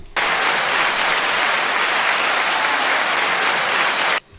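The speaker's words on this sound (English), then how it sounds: "Hey, that was cheering." A dense wash of crowd cheering and clapping used as a sound effect, loud and steady for about four seconds with an abrupt start and stop.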